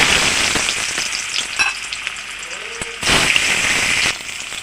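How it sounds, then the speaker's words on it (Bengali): New potatoes fry in hot oil in a wok, a close crackling sizzle that swells, drops back briefly, then surges loud again with scattered stirring knocks. "এইবারে আলুগুলোকেও"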